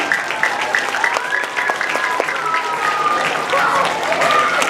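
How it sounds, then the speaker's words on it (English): Applause from a school assembly audience for student helpers at a students-of-the-month event, dense and fairly loud clapping with scattered voices and a few whoops mixed in throughout. "another round of applause for everyone helping here."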